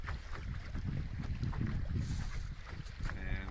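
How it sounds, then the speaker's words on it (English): Steady wind roars and buffets across the microphone aboard a sailboat on the Minas Basin near high tide, loud and continuous, with a brief spoken word partway through. "The wind is increased"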